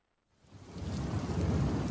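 Thunder rumbles in over rain after a brief silence, swelling into a loud, steady downpour with deep rolling booms underneath, no voices present.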